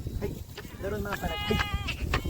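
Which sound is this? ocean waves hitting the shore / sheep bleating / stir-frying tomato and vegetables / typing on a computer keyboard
sheep bleating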